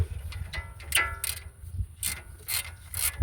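A ratchet works a nut off the front strut assembly of a 2009–14 Nissan Maxima S 3.5L V6, giving repeated metallic clicking bursts at a steady rhythm, close and moderately loud over a low background rumble.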